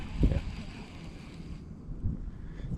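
Gusty wind buffets the microphone on a kayak during an early spring bass fishing trip, a low rumbling roar with a couple of stronger thumps and soft water lapping beneath.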